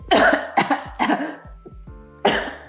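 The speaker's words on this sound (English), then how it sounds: "coughing up a lung here." A person coughs hard in several harsh bursts, close up, with a short pause before a final cough.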